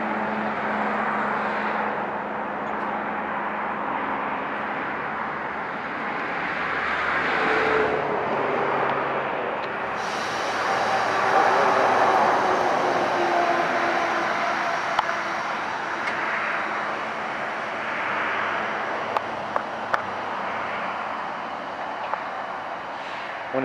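Two trains sit idling together, their diesel engines giving a continuous low rumble with a steady hum that swells and shifts in pitch, joined by a brighter hiss partway through and a few faint clanks.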